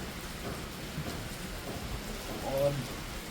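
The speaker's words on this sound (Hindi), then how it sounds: "ये देखो बारिश हो रही है भाई यहाँ पे।" Steady rain falls outdoors in a continuous, moderately loud hiss that swells briefly near the end.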